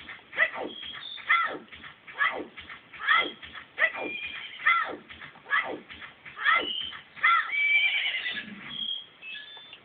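A horse at Romani Ranch in The Legend of Zelda: Majora's Mask whinnies again and again in an even rhythm, about one call per second, clear and fairly close with no talking.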